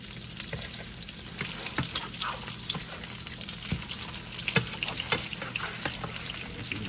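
Chicken frying in a frying pan for chicken Alfredo, a steady close sizzle and crackle with scattered pops throughout, no talking.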